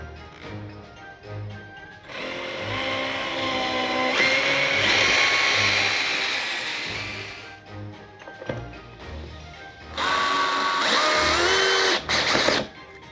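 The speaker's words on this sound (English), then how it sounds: "I'm gonna go ahead and drill the hole for the left side here" A power drill whines steadily for several seconds while drilling a hole for a curtain rod bracket, stops, then revs again in a second loud burst, with a brief quiet gap between.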